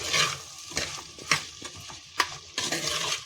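Ingredients for a fish curry are sautéed with salt in a pan, giving a soft continuous sizzle broken by several sharp scraping and stirring knocks of a utensil against the pan, close and moderately loud.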